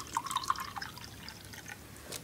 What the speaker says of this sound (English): And then you pour some water